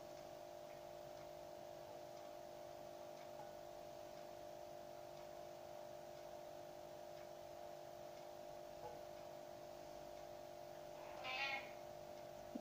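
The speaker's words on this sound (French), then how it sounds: "Vous l'entendez le chat?" A house cat gives a single short meow near the end, faint against a steady low electrical hum in a quiet indoor room on Christmas Eve.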